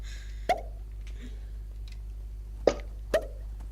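A mouth imitates a bottle cork popping, giving three short, sharp pops, one early and two close together near the end, over a low steady background hum.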